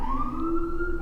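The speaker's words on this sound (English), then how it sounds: "Siren." Emergency vehicle siren wailing with a steady, sustained tone, loud and close, alone without any voices.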